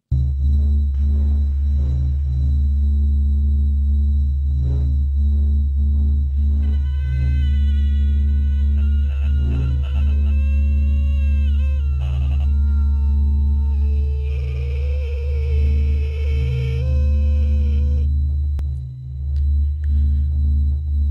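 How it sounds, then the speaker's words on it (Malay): A steady electronic hum with pulsing sonar-like pings and warbling, rising and falling tones, heard over a phone line at night, loud and continuous throughout. "saya dengar bunyi macam ada sonar effect gitu, SONAR, sonar effect"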